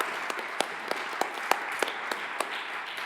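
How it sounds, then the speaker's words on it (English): A conference audience in a room in Rovaniemi claps steadily together, a brief round of applause with sharp individual claps popping out of the dense, even patter. "please give everyone a round of applause, especially to our coordinators."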